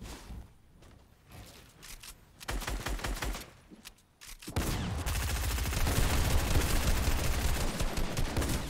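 Gunfire from a pump shotgun in the Fortnite video game: sparse shots at first, then a dense, loud barrage of rapid blasts and battle noise that carries on without a break.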